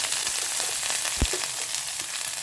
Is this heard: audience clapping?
no